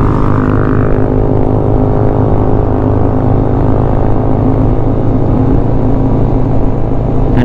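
A Honda CB500X motorcycle hums along a frontage road with a steady engine drone and wind rush, loud and continuous throughout, with no talk.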